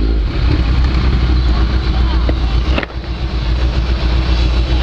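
A Kawasaki Z1000 motorcycle rides through city traffic, its engine a loud, close, continuous drone with constant rushing wind noise and a short dip partway through.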